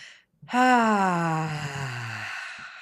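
A single long, voiced exhale during a guided breathing exercise, a loud humming sigh that slowly falls in pitch and fades out after about two seconds, heard on its own close to the microphone.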